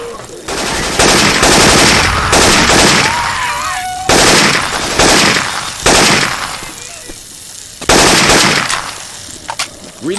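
Syphon Filter weapon sound effects used in the game Left 4 Dead 2: loud, heavy automatic gunfire in long sustained bursts separated by short gaps, with several bursts over about ten seconds.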